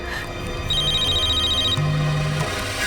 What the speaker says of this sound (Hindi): प्रदीप प्लीज प्लीज फोन उठाओ प्रदीप।